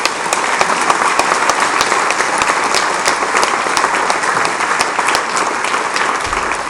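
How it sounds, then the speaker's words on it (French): A ceremony audience gives sustained, dense applause for municipal staff at a New Year's wishes event in Aulnay-sous-Bois, loud and even throughout with many hands clapping at once. "Nous pouvons applaudir ces agents."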